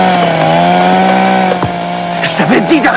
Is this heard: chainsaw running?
yes